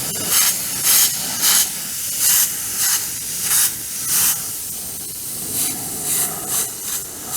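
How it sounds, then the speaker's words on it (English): An airbrush spraying thick paint mixture onto a 1/48 scale Timberwolf model gives off soft, short hissing bursts in an uneven rhythm over a faint background hiss. "Although I'm spraying quite thick mixture,"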